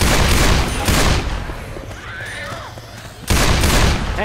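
Bursts of rapid gunfire in the zombie shooter Left 4 Dead 2, loud and close at the start and again near the end, with a quieter gap between the volleys.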